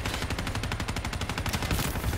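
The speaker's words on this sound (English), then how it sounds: "I think there's an automated turret down there." An automated turret fires in rapid, evenly spaced bursts in Call of Duty: Black Ops 3, a fast mechanical rattle of shots that continues unbroken at moderate loudness.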